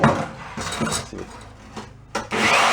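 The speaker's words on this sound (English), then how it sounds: "Let's go try the drill." A secondhand electric drill from a yard sale, its cord looking worn, whirs in uneven bursts that rise, dip and surge again, fairly loud and close with no talking.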